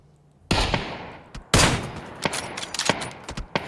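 Gunfire in PUBG, a sharp close shot followed by a second loud burst and a string of quicker, fainter shots trailing off, with no talk.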